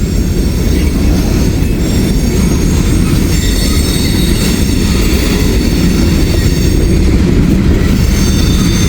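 A loud, close freight train carrying coke rumbles past continuously, with a heavy roar of wheels on track and high metallic squealing throughout.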